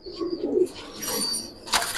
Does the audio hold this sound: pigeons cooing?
yes